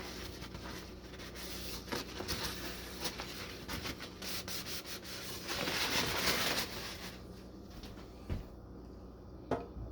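A cloth rubs a light layer of oil onto a carbon steel hunting knife blade, a close, steady scraping and wiping with repeated strokes, a louder rub midway, and a couple of small knocks near the end.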